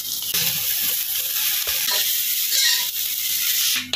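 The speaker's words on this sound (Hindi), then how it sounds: "ये एग थोड़ा सा फ्राई हो जाए तो फिर इसमें चावल ऐड कर देंगे।" Egg frying in a pan, a steady loud sizzle with occasional scraping stirs and small clinks, close by and without speech.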